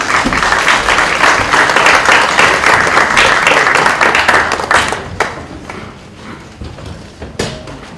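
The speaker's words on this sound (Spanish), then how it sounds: "Recibámosla, por favor, con un fuerte aplauso" A conference audience gives loud, steady applause welcoming a speaker to a talk on seismic monitoring of the April 16 earthquake, then the clapping thins out and fades toward a few scattered claps at the end.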